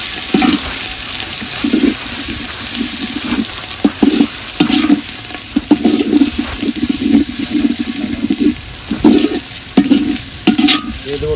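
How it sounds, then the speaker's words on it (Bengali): Ginger and garlic paste go into fried onions in a pan, with a steady sizzle under repeated scraping strokes of a stirring spoon, close and fairly loud, no voices. "পেঁয়াজ ভাজা হয়ে গেছে, এখন আদা বাটা রসুন বাটা দিয়ে দিব।"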